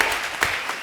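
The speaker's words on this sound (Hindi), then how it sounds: "ठोको ताली" A studio audience at the comedy show Comedy Circus breaks into a short burst of lively clapping, close and fairly loud, with a few sharper claps standing out.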